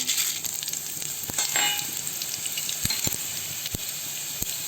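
Spices sizzling in a small amount of hot oil for gongura pachadi, a steady crackling fry punctuated by several sharp clicks of a spoon stirring against the pan, close and clear with no talking.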